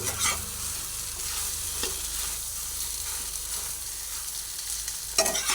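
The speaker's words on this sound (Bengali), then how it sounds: "নাড়াচাড়া করে নিচ্ছি দেখুন অল্প করে নাড়াচাড়া করে নিচ্ছি" Taro kebabs frying in oil in a pan while being stirred, a steady crackling sizzle with occasional scrapes and clinks of the utensil, close and without speech.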